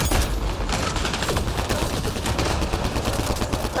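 Sustained rapid gunfire in the shooter Mass Effect Andromeda, dense machine-gun bursts crackling continuously and loudly, with metallic mechanical clatter and a faint boom mixed in.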